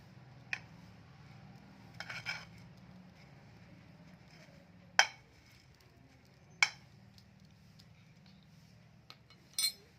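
Masala puffed rice is stirred and mixed in a bowl, producing a few sparse, sharp metallic clinks and light rustles scattered over quiet background.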